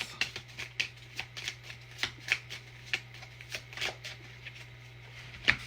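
Tarot cards being shuffled and drawn at close range, a run of quick, crisp riffling snaps and slaps in an uneven rhythm over a low steady hum, with no talk.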